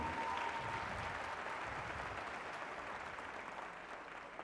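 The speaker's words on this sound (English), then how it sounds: "Another big round of applause for Songeta Weti." Audience applause at a South African Navy gala concert, a faint, steady wash of many hands clapping that fades gradually over about four seconds.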